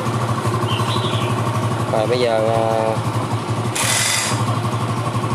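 A Yamaha Nouvo 4 LX motorcycle, a bike with a battery that keeps draining and a charging fault, idles steadily throughout, its close, loud, even engine putter running under someone speaking briefly.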